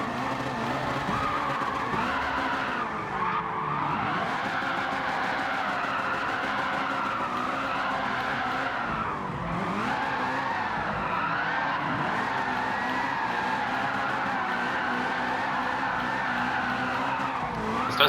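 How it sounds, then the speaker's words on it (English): A TVR fitted with a 1000hp LT5 V8 drifts in the video game Gran Turismo 7, its engine droning steadily while the tyres squeal and skid continuously through long slides, loud and close. "This does drift quite nicely, to be honest."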